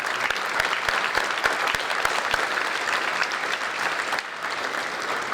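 A crowd claps steadily throughout a senior awards ceremony, with dense, sustained applause and a few sharper nearby claps standing out early on, easing slightly toward the end.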